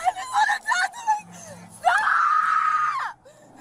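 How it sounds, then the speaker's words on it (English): A girl lets out a long, loud, high scream lasting over a second, preceded by shorter shrieking and whimpering cries, with some voices nearby. "Why is she screaming like that?"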